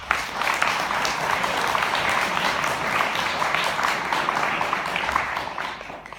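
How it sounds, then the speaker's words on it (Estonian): A hall of people at a council gathering breaks into loud, sustained applause, dense even clapping holding steady throughout without pause. "suur aplaus teile."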